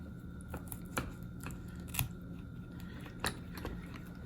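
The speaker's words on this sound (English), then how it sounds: "going to take this off and make these, cutting at an angle here, some St. Louis ribs" A knife cuts through a rack of pork ribs to trim it into St. Louis ribs, producing a series of faint, irregular crunching snips, with sharper cracks as it passes through bone and cartilage.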